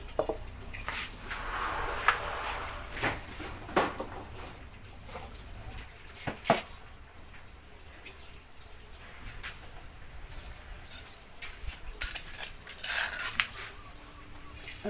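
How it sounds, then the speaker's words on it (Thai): Beef stir-fried with holy basil in oil in a pan, with a light patter of sizzling broken by sharp clinks and scrapes of a utensil against the pan at irregular moments. "มาเบิ่งขั้นตอนผัดเด้อพี่น้อง แค่น้ำมัน"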